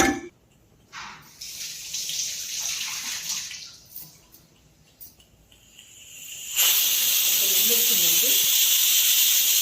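Faint voices and kitchen sounds, then a pressure cooker whistle bursts out as a loud, steady rush of hissing steam that continues to the end.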